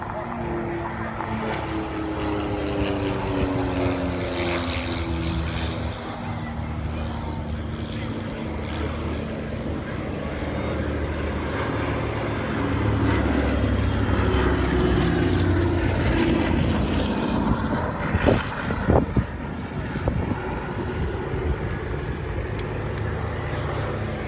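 The C-47 Whiskey 7, a twin-engine propeller airplane from a New York air museum, drones steadily overhead at a D-Day commemoration event, loud and continuous, with the engine roar swelling midway before easing off.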